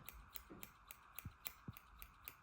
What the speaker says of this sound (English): if we take the scissors and just carefully trim